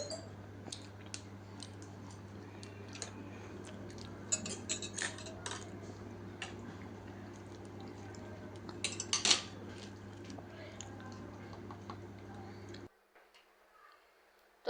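A metal fork tapping and scraping on a plate during a home meal, light irregular clinks scattered over steady low background hum, one sharper cluster of clinks partway through, then near silence at the end.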